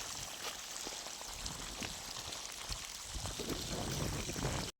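Water runs through drip irrigation emitters to plants as a steady rushing trickle, close and even, with scattered drips, cutting off abruptly at the end.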